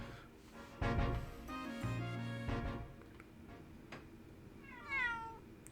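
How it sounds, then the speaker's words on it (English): A cat in the video game The Great Ace Attorney 2 gives a couple of clear meows, one long drawn-out cry and a shorter rising meow near the end, heard alone without talk. "Oh, look! It's that lovely little kitty cat."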